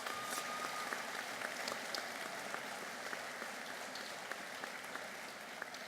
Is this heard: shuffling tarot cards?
no